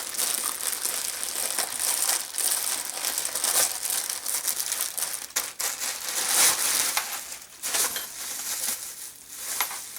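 Bidet packaging being handled, with a steady run of crisp plastic and cardboard crinkling and crushing close by for the whole stretch, plus a few sharper rustles and crackles.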